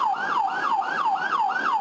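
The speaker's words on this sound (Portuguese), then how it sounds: "Ambulância no pedaço" An ambulance siren wails in a rising and falling cycle, repeating steadily and loudly in stalled street traffic at a blocked intersection.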